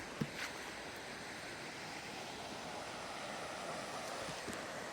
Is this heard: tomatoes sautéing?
no